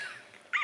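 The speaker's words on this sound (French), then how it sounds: "c'est mon chien." Dog giving a faint, short whimper: a thin high whine followed by a slightly louder, brief yelp-like cry at the end.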